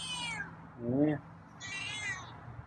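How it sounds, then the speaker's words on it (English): Feral cat meowing at feeding time: a high drawn-out meow, a lower louder cry, then another long high meow, close by, with a brief spoken word from a person. "Got a meow tonight, huh?"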